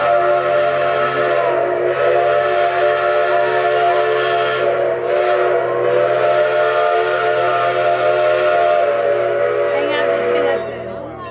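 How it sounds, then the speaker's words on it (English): Steam train at Roaring Camp Railroad blowing its chime whistle as it pulls into the station, a loud sustained multi-tone wail lasting about ten seconds with brief dips, then fading. "We got back on and we're now going to film the train coming into the station."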